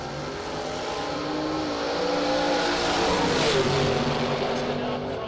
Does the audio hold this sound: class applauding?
no